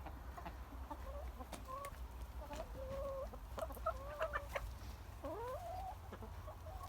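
Backyard chickens clucking in a series of short, soft calls with a few rising notes, moderately close over a steady low hum and outdoor background.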